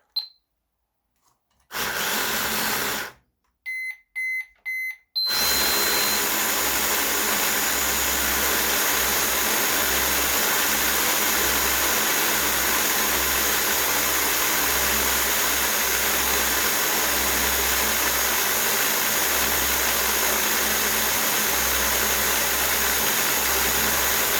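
A WLToys K989 RC car with a 98mm setup and its motor running at speed. Brief bursts of whine start and stop, then a loud, continuous high-pitched electric motor whir holds steady up close.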